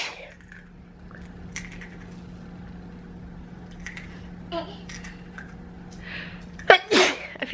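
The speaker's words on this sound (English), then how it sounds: "it's of me sneezing." A single loud sneeze bursts out near the end after a quiet stretch with faint background chatter.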